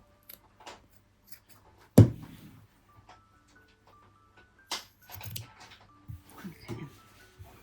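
Scissors trim the edges off cross stitch fabric with scattered close snips and rustles, including one sharp louder cut and a cluster of handling noises later.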